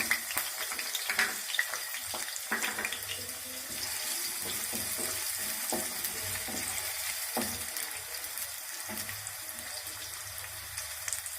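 Chopped onions frying in a pan of hot oil, a steady close sizzle and hiss with small crackles running throughout, no voices.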